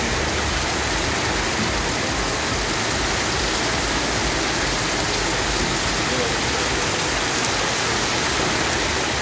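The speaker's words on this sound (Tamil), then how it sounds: "கொட்டித்தீர்த்த கனமழையால் இதமான சூழல் உருவானது" Heavy rain pours down steadily in a dense, unbroken hiss with no pauses, loud and close throughout, sounding like a downpour over an open area.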